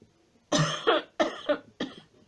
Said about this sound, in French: Et là, je vais tousser